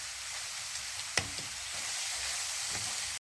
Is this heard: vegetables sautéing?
yes